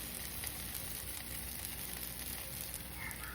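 Thalipeeth, a flat multigrain flatbread, roasts in ghee on a hot pan with a steady, even sizzle that runs unbroken and fairly close throughout, with no voices.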